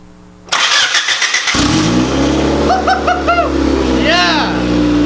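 A turbocharged Honda Civic EG engine starts for the first time, cranking briefly before catching into a loud, steady idle with a light rev, recorded up close. Voices call out over the running engine.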